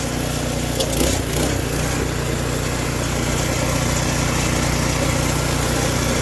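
A new garden tiller from Home Depot runs loud and close, its engine holding a steady, even drone throughout with a brief rattle near the start.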